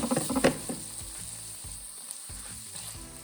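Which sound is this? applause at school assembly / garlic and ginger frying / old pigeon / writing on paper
garlic and ginger frying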